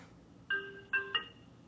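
Telephone ringing with short electronic ringtone bursts, three quick tonal chirps in a row, fairly faint and heard alone.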